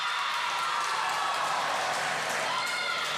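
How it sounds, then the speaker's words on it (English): A gym crowd at a high school volleyball match between Williamsport and Clear Spring erupts in steady cheering and clapping, a dense, loud roar that holds without letup from start to finish. "That'll get everybody cheering for sure, and it did."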